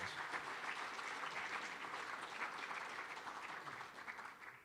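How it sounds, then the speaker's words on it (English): A conference audience at an economic outlook event gives a sustained round of applause, a dense steady wash of many hands clapping throughout, moderately distant and fairly quiet, with no speech over it. "So if you could please give them a round of applause."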